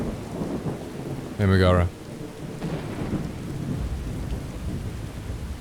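Steady rain and rumbling thunder in a video game, a constant wash of downpour with low rolls underneath, while a voice speaks briefly over it.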